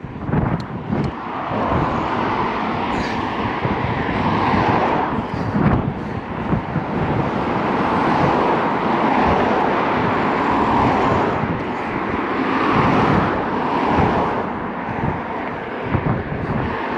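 Camera drone flying low over water beside a bridge, a steady broadband whir masked by continuous wind buffeting on the microphone, loud and unbroken throughout.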